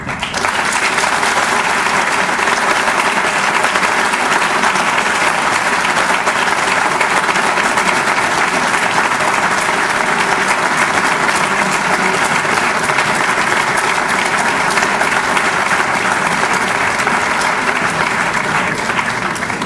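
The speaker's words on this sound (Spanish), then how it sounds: "Les pido a todos ustedes un aplauso nuevamente." Sustained, dense applause from a large audience at a formal anniversary ceremony, steady and loud throughout with no break or talk over it.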